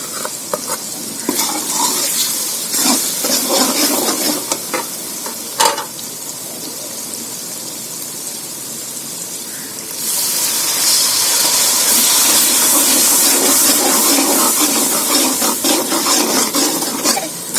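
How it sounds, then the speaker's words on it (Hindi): Spices frying in a pan for a lobia chicken and potato curry: a steady loud sizzle with scraping stir strokes, growing denser and brighter partway through as the masala keeps roasting. "कम से कम 10 से 15 मिनट तक मसाले को भूनेंगे"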